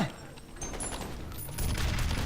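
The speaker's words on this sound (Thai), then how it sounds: "โอ้โหมันยิงปืนอะไรมาเนี่ย" Gunfire rattles in a fast burst during a firefight in the video game F.E.A.R., moderately loud, with mechanical clatter and electronic game tones around it.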